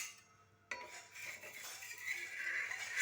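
A metal plate is lifted off a pan of cooking ragi roti, a sudden clink followed by soft scraping and light metallic rattling at low volume with no voices.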